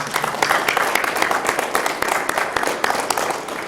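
Steady applause from a small group at a junior high school spelling bee, many hands clapping together at a fairly loud, even level throughout.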